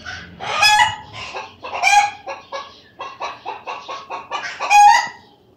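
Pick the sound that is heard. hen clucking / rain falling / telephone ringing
hen clucking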